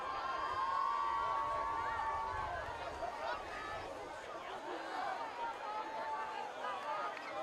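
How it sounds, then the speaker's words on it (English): Crowd noise at a high school football game between Arlington and Arlington Catholic, a dense murmur of voices and shouts with whistly tones, swelling early and then continuing at a steady roar in the distance. "You can hear the crowd starting to get louder."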